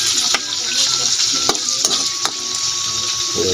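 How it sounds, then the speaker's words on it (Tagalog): Tofu pieces frying in hot oil in a wok-style pan, a steady close sizzle with sharp crackling pops and the scrape of stirring, no voices. "Pinitin mo natin yung kawali at lagyan natin ng mantika. So guys, lagyan ko na yung tokwa."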